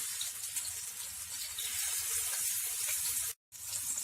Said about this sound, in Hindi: तेल गरम हो चुका है, धीरे से कबाब को इसके ऊपर रख देते हैं।